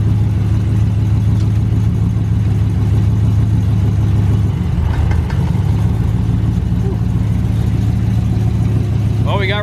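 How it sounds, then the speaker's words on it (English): A boosted street truck's engine idles loud and close with a steady low rumble, a brief dip midway, and speech faintly mixed in over the running engine. "So nice to hear it running again."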